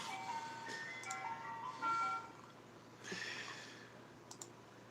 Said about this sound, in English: I can't concentrate with this ice cream music playing. It's Turkey in the Straw